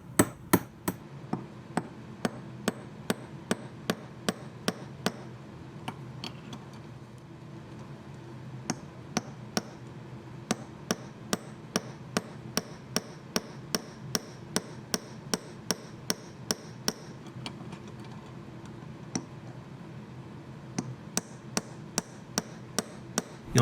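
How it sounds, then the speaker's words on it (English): Wire ends struck with a hammer to upset them into rivet heads, a long series of sharp metallic taps in a steady rhythm, close and clear, with only a few brief pauses. "hammer the wire to upset the ends until they form biscuit shapes"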